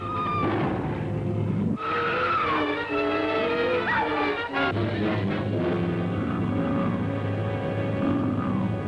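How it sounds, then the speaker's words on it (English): A car engine drones steadily throughout, with tonal whines and a squeal-like sweep rising and falling over the constant rumble. "I think I hear the engine of that damn car."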